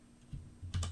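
Quiet, close typing on a computer keyboard: a few soft, scattered keystrokes followed by a quicker cluster of clicks near the end.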